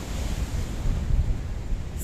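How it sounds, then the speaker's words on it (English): Wind buffets a microphone along the Paphos coast in Cyprus as waves wash in, making a loud, continuous rushing roar with no voices. "Look at the wind."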